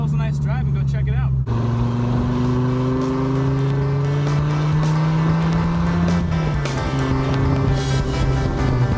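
A Dodge Viper driving, heard from inside as a loud, steady engine drone whose pitch rises and falls with the throttle, with road noise throughout.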